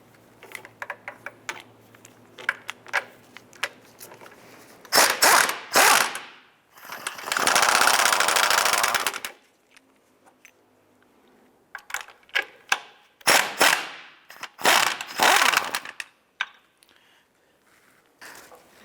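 A hand ratchet clicks in short bursts as two 18mm nuts come off the motor mount of a 2011-2019 Ford Fiesta, close and loud, separated by quiet pauses and a longer continuous whir in the middle.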